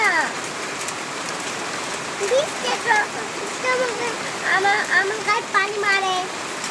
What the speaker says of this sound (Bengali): দেখো কত বৃষ্টি